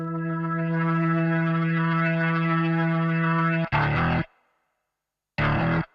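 A sustained, distorted chord from an HX3 Hammond organ clone holds for several seconds, then cuts to short, punchy bursts separated by silence.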